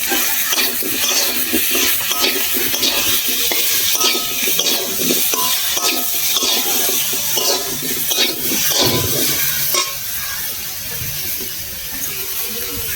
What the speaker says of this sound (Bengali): এবার স্বাদ মতো লবণ দিয়ে দেবো, নেড়ে চেড়ে একটু ভেজে নেব।